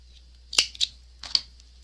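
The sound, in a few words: scissors trimming kumihimo cord end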